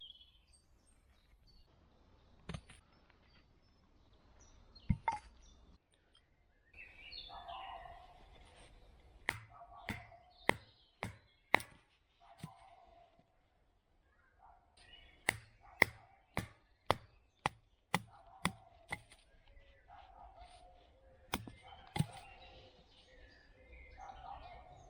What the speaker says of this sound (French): je vais venir râper avec mon couteau les petits morceaux de bois